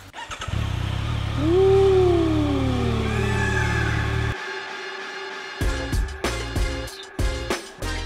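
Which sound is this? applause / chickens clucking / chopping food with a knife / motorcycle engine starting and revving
motorcycle engine starting and revving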